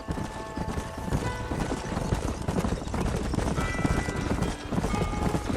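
Several horses' hooves clip-clop steadily in Red Dead Redemption, a dense, close rhythm of hoofbeats with occasional snorts, continuing without pause and with no talk over it.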